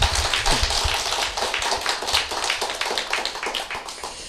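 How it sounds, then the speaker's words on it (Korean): Dense, steady applause from a church congregation at a year-end worship service, many hands clapping together without pause, loud and close with no voices over it. "박수를 치려면 제대로 한번 쳐주십시오."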